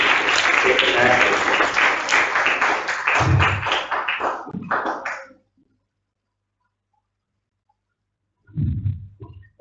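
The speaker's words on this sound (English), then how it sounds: "Round of applause, please." Audience applause at a school quiz competition, a burst of many hands clapping that fades out after about five seconds, then silence before a few close thumps and taps.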